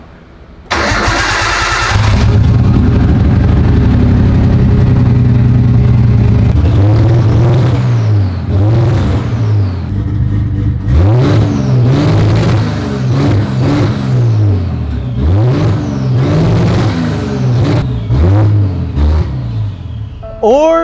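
Nissan Skyline engine under rebuild, smoking and prone to stalling, cranks and catches with a loud start, then settles into a rough idle broken by repeated sharp revs rising and falling, close and dominant throughout.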